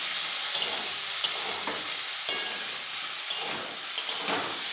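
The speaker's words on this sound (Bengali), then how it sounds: "আলুর সাথে আমি এই বেগুনগুলোকেও তেলে নিয়ে নিচ্ছি হালকাভাবে।" Potatoes and eggplant fry together in oil, giving a steady close sizzle with occasional spatula taps and scrapes against the pan.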